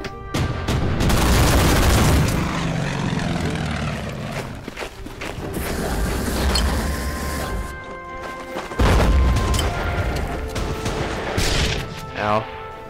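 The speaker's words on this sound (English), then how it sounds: "strafing our airfield" Aircraft strafing an airfield in the Pacific war strategy game Order of Battle: Pacific, with dense crashing gunfire, booms and engine noise running continuously and loudly throughout.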